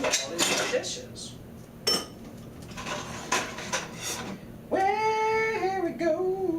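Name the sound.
dishes clinking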